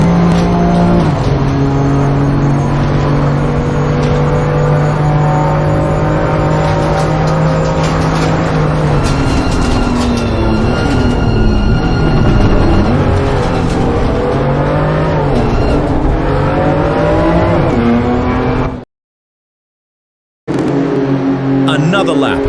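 BMW M2 CS race cars roar down a track's main straight in close competition, engines revving hard and shifting pitch as they pass, while a commentator talks over them. A brief silent gap comes near the end.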